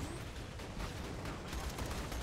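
An automatic turret in the video game Borderlands 2 fires a dense, continuous barrage of shots, heard loud and close with no letup for the whole moment.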